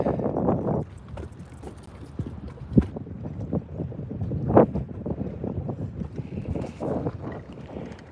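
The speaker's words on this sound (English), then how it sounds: "So I know you guys can hear that wind, right?" Wind buffeting a microphone outdoors during bass fishing, with low rumbling gusts that rise and fall throughout and a couple of sharp knocks.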